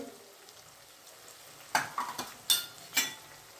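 Spoon stirs red chili powder, coriander-cumin powder and spices in a frying pan for mixed dal curry: a low sizzle, then several distinct scraping strokes near the end, close and fairly quiet, no talk.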